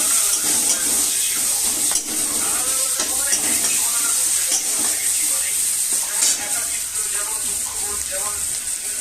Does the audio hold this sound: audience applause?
no